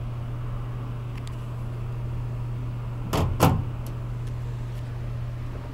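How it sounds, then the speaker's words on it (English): Otis traction passenger/service elevator in a condominium in Ocean City, Maryland, its doors closing quickly with two short sliding bursts and a soft thud over a steady machine hum, heard close by. "Those doors close quickly."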